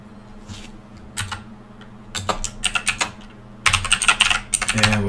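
Typing on a computer keyboard: scattered key clicks at first, then faster bursts of crisp close-up tapping that grow louder and denser toward the end, with no talk.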